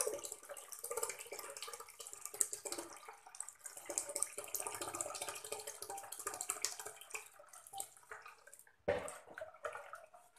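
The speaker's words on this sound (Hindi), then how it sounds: "अब हम 1 लीटर पानी और डालेंगे इसमें" Water pours steadily into a cooking pot, a soft continuous splashing stream that fluctuates slightly, with a brief louder splash near the end.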